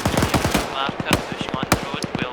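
Bursts of rapid automatic gunfire and single gunshots ring out during a military video game raid, with rhythmic volleys of sharp cracks at moderate distance and sounds of gameplay in the background.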